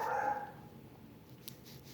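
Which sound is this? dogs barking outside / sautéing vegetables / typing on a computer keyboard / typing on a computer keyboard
dogs barking outside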